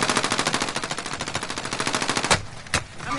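Rapid machine-gun fire in Call of Duty rattles in a fast, steady burst, then cuts off and leaves two separate sharp shots.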